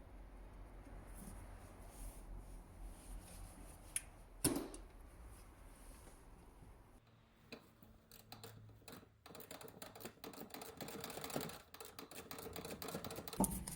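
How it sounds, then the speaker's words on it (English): A ratchet undoes a 10mm handbrake adjuster on the rear brake caliper of a Vauxhall Corsa VXR, giving faint clicks and ticks over low background noise, with busier mechanical clicking later on. "you can see a 10mm adjuster which you can undo with a ratchet"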